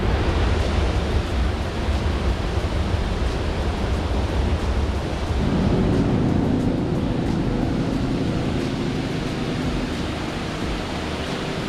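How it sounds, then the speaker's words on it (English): Goldmine Brook Falls, a steep woodland waterfall, roars as a loud continuous rush of falling water, heard close and alone, its low rumble shifting as the listener moves nearer. "That is a gorgeous waterfall. Goldmine Brook Falls."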